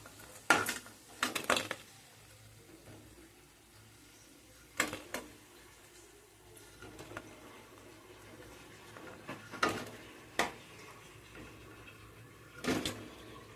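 Fried dahi vada are lifted out of a pan with metal utensils, giving scattered sharp clinks and scrapes at irregular intervals against a quiet kitchen background.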